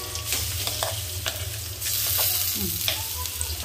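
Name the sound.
stirring cabbage chutney in a pan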